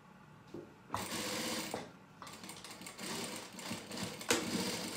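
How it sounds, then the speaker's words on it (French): A domestic sewing machine stitches bias binding onto a duck-bill face mask in quick bursts of rapid mechanical whirring, briefly reversing and stopping between runs, close and with no talk. "Marche avant, marche arrière et je continue de coudre mon biais"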